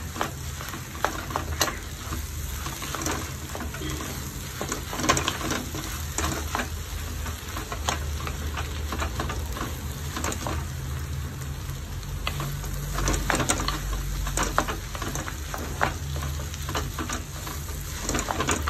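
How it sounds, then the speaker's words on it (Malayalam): Mashed potato is stirred into a frying vegetable cutlet mixture in a pan, giving a continuous sizzle with scraping stir strokes throughout, close and without talk. "ഇനി ഉരുളക്കിഴങ്ങ് പൊടിച്ച് വെച്ചത് ചേർത്ത് കൊടുക്കാം. അത് നന്നായിട്ടൊന്ന് യോജിപ്പിക്കണം."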